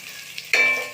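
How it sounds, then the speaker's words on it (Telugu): Green chillies sizzle and fry in a pan as they are stirred, a steady close hiss broken by a sudden louder burst of frying midway through, with no talking. "ఇప్పుడు ఇందులో పచ్చిమిరపకాయలు వేసుకుందాం. ఇవి కూడా వేసుకుని ఒకసారి కలుపుకుందాం."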